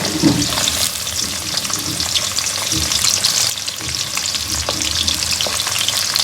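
Onions sizzle and crackle loudly in hot oil, with occasional stirring scrapes of a utensil against the pan.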